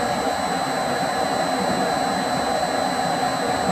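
A metal lathe takes a single cut on a workpiece, a steady, loud whining drone with a high, constant tonal hum and a rough, grinding texture, unbroken throughout.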